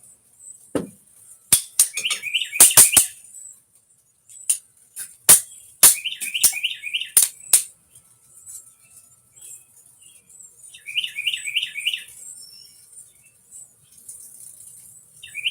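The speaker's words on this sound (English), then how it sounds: "I've got a bird attacking a cicada over here in the yard, and it's making a really weird noise" A cicada in a yard, attacked by a bird, gives loud, close bursts of irregular rattling clicks and buzzy chattering pulses, separated by quiet gaps.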